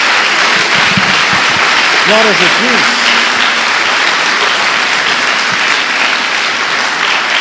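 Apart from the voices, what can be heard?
congregation applauding in church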